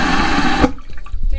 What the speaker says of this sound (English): Flush test.